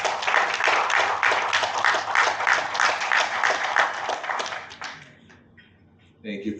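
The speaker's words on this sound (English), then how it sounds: "Round of applause." Audience at a MONIN Day 2025 event breaks into dense, steady applause that holds for about five seconds and then fades, with a brief voice afterward.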